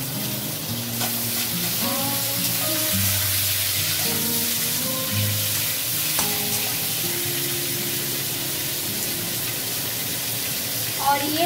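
Pumpkin sizzles in a pan with panch phoron, a loud steady frying hiss with stirring and scraping throughout while someone talks over it.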